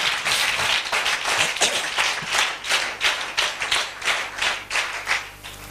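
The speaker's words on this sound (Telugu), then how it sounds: "చప్పట్లు కొడుతూ ప్రభుని కనపరుచుకుందా." A church congregation claps in a steady, loud rhythmic beat, with evenly spaced sharp bursts of many hands repeating for several seconds.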